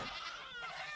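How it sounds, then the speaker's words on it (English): A sheep bleats inside a barn, one wavering, nasal cry held for about a second, moderately close and alone. "In the barn, there were 12 sheep."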